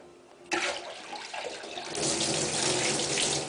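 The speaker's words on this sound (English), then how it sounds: "And then top it up with the water." Tap water gushes into a tub-sized sanitizing bucket holding a spoon and siphon rod for home beer brewing, starting abruptly and pouring loudly and steadily, the fill deepening in tone partway through.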